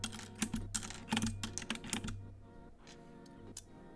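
Keycaps and switches are pulled from a mechanical keyboard with a switch-and-keycap puller, making a quick run of sharp plastic clicks and rattles up close. The clicks thin out into a few scattered taps.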